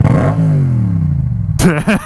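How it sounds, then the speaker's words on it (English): A borrowed motorcycle's engine revs up with a falling, rising drone, then cuts into a sharper burst of rapid revving close by. "I want to rev the engine right now"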